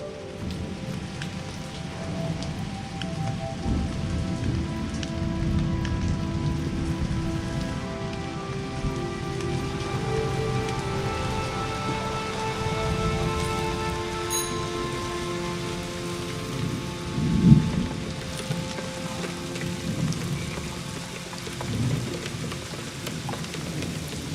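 Steady rain patters across the whole stretch with a faint rumble of thunder in SEASON: A Letter to the Future, under soft sustained ambient tones and one brief louder knock partway through; no voices.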